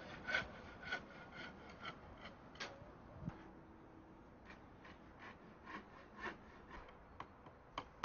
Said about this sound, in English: Start by cutting several lengths of timber stakes.